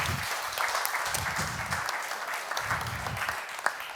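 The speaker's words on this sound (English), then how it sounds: "Welcome them with applause." Audience applause at a student pitch event for a workshop, a moderate, fairly distant wash of clapping that holds steady throughout.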